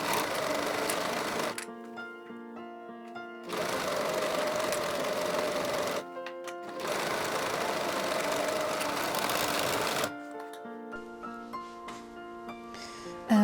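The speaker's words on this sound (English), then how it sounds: "I'm now going to sew the 2 crotch seams with my serger" A serger overlocks the two crotch seams of sweatpants in long steady runs, a loud whirring buzz broken by two short pauses and a quieter stretch with a faint tonal hum between bursts.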